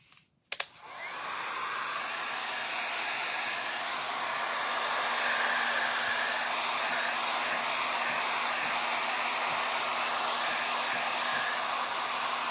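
A hair dryer clicks on after a brief knock and then blows in a loud, steady whirring rush that holds without a break, with no one talking.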